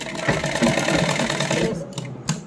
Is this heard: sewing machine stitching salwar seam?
yes